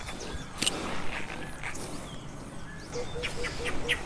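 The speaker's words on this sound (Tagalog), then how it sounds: "Daming ibon dito, no? Iba-ibang tunog." Several birds call and chirp around a campsite in Zambales, short varied tweets scattered over a busy outdoor background, with faint footsteps or movement nearby.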